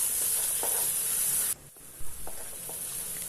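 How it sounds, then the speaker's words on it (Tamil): Chopped tomatoes and salt sauté in a pan for Chettinad chicken varuval, giving a steady close sizzle with a few stirring scrapes and a brief clatter partway through. "இப்போ 2 தக்காளி நறுக்கினது கூடவே உப்பும் சேர்த்துட்டு நல்லா வதக்கிக்கலாம்"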